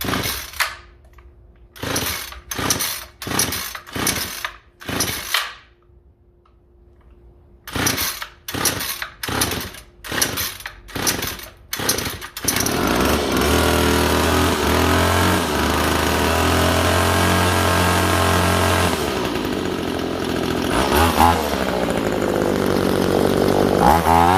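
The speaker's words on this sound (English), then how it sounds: "Let's motor her up. AMSOIL weed whacker." A two-stroke weed whacker run on AMSOIL fuel mix is pulled several times in quick bursts, then catches and runs with a loud, steady, buzzing idle and revs close by.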